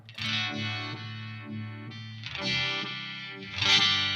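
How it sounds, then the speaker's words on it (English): Thick, chewy guitar chords pushed through a maxed-out Uni-Vibe pedal, the deep throbbing pulse swirling heavily as notes ring out and change. "Just get that thick throbbing pulse in there"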